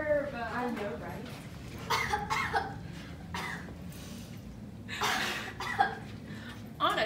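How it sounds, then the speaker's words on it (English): A few short, harsh coughs burst out amid close conversational voices, sounding near and loud. "did you just cough on my makeup"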